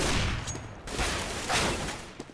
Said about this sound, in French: Canon Show qui va tomber sous les balles de Steve